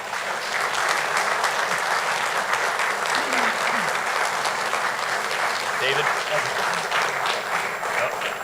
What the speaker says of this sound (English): so if we can please give them a big round of applause